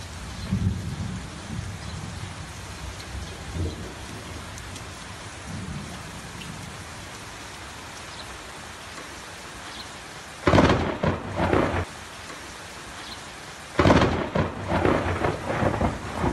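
Rain falls steadily through a thunderstorm while two loud, close thunder cracks break out, the second followed by rumbling, with no speech.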